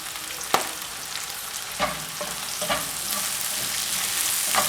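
Curry leaves and green chillies sizzling and crackling in hot oil in a pan, a steady close fry with several sharp pops and spits standing out.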